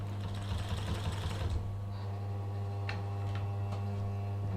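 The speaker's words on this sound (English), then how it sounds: "Turn the power on. Just make sure the thread is out to the side and you can start to sew." A walking foot sewing machine running close by with a steady motor hum and a fast mechanical stitching rattle, then winding down to the hum with a few separate clicks.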